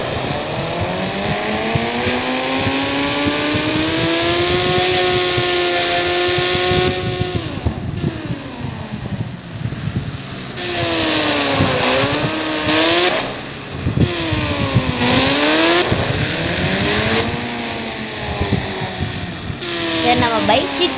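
Motorcycle engine from the mobile game Indian Bike Driving 3D, revving up and shifting in repeated rising sweeps, with a few drops and re-accelerations, loud and continuous throughout.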